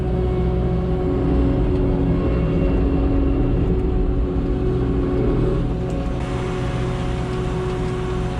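A seed delivery rig's engine idles close by in a steady, loud diesel rumble on a farm, holding even throughout with a slight shift in tone near the end.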